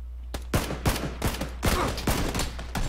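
Gunfire in PUBG, the online battle royale shooter, with a rapid volley of several loud, close shots in uneven bursts, each with a sharp crack and a rumbling tail.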